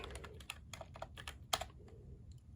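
A Logitech MX Mech Mini mechanical keyboard gives a quick run of close, crisp key clacks, with one louder strike partway through, and then fades to a few lighter taps.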